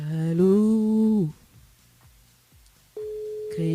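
Telephone line tones sound while a radio show rings a listener, two steady beeps separated by a quiet gap with faint clicks, each tone sustained and clear.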